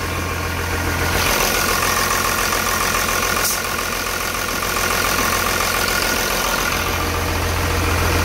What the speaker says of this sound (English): Motor sounds great. I'm gonna rev it up for you.